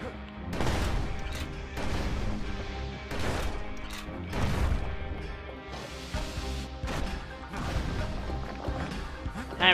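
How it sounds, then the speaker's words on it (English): Grenade explosions in the action game Bastion, heavy crashing bursts and booms repeating through dense battle noise and music, loud and close. "Grenade."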